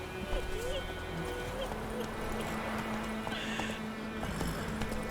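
Clip-clop of horse hooves and a neigh in The Witcher III, fairly quiet beneath steady game music and ambience.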